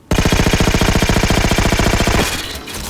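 A Halo 4 video game gun fires a loud, rapid automatic burst of evenly spaced shots for about two seconds, then stops abruptly, leaving a short fading tail.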